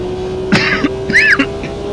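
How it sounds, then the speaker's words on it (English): A single person coughs twice in quick short bursts, close and clear over a steady engine-like hum in a racing game setting. "There you go, stress cough."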